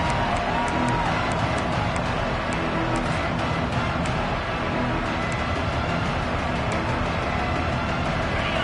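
A dense, steady roar of a stadium crowd cheering a big third-down play in Madden 26, loud and continuous throughout without pause.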